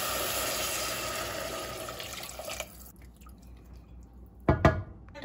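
Two and a quarter cups of water pour into a pot for a split pea dip, a steady splashing stream that stops after about three seconds, followed by a few short drips and splashes.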